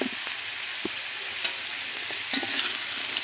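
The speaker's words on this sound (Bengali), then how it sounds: "মূলাটা দিয়ে এভাবে কিছু সময় ভেজে নিব" Radish and potatoes fry in a pan with a loud, steady hiss and crackle close up, punctuated by a few quick knocks and scrapes of a stirring spoon.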